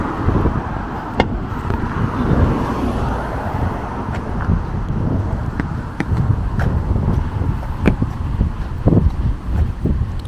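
Steady outdoor wind rushing and buffeting, with a low rumbling bed and occasional gusty bursts, no talking.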